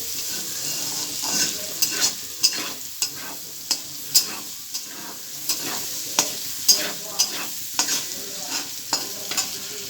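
Chopped onions sizzle steadily in hot oil in a home kitchen pan, with repeated sharp scrapes and clinks of a spatula stirring them, close and fairly loud, no voices.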